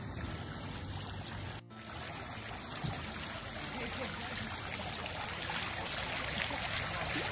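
Water trickles from a fountain in a small Polish town, a steady soft splashing wash with a brief dropout partway through and no voices.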